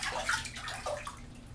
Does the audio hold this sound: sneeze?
no